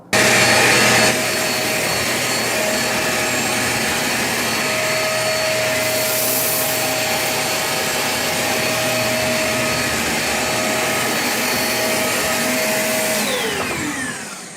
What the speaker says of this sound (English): today we're going to test on the hard floor with some flour and oatmeal for the Shark Rotator Pet